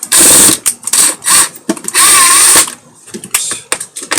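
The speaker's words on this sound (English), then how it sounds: "I like to drill whenever possible because, as some of you might know," A power drill works a scrap-wood build for a Dremel caddy in loud whining bursts that start and stop, with one longer run in the middle and short clicks and knocks between.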